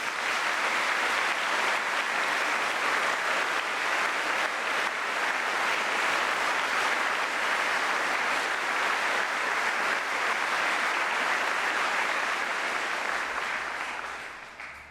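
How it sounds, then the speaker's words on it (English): Sustained applause from a large audience at a university graduation ceremony, a thick, even roar of clapping in a big hall that holds steady before tapering off near the end. "I'd like to now ask you all to show your appreciation for these staff with another round of applause."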